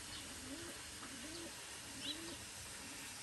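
A racing pigeon hen cooing softly in repeated low rolling phrases, faint against a steady hiss of rushing water from a nearby waterfall.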